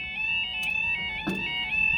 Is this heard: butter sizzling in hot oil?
no